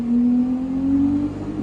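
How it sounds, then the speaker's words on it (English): An 820-horsepower car engine accelerates with a rising, steady tonal drone that climbs in pitch over a short burst, close and loud without talk. "820 horsepower. Whoa! Oh my god, this car is fast."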